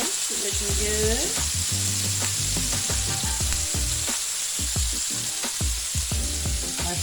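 Raw peeled shrimp sizzle loudly in a hot pan, an unbroken frying hiss layered with utensil scrapes and taps.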